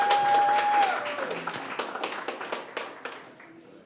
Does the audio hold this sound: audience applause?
yes